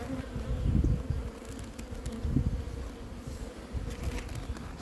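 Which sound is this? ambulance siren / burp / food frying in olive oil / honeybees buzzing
honeybees buzzing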